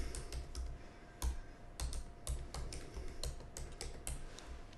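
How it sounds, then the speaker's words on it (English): Quick, quiet keystrokes tap on a computer keyboard in an uneven typing rhythm, close and soft, with no talking over them. "let me just type that in"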